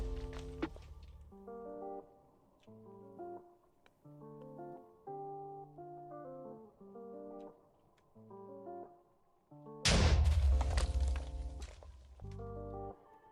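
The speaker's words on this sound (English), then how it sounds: "that's a pretty big explosion" A huge Minecraft-style blast from a hundredfold-power Lucky TNT block in a video game: a loud, broadband boom with deep rumble erupts abruptly and decays over a few seconds, set against soft melodic background music.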